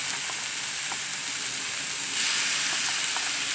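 Seasoned top sirloin sears on a Blackstone griddle with a steady, bright sizzle that swells louder partway through, close and continuous, with no talk.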